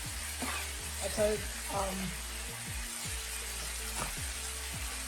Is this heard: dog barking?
no